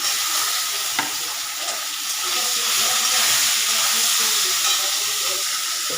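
Soybean chunks sizzle and hiss steadily in a pan of cooked onion, a close, continuous frying sound with faint stirring scrapes and no talking.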